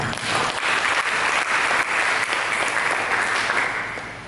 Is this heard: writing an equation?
no